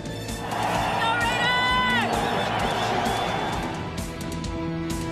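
A stadium crowd at a 1999 Raiders football game cheers and whoops loudly and continuously, with shrill whistle-like calls rising above the roar.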